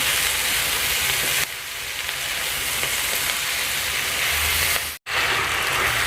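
Drumstick flowers sauté in hot oil in a kadai, giving a steady loud sizzle and hiss that drops slightly partway through, then a brief silent gap before the frying noise returns.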